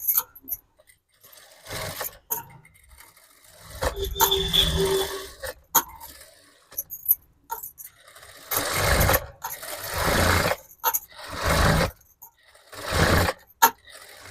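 A sewing machine stitches the side seam of a blouse neckline in several bursts of fast mechanical whirring, close and loud, separated by short pauses.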